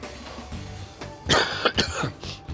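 A single throaty cough bursts out up close, followed by a couple of shorter rough coughs and throat clearing, with quieter room noise before it.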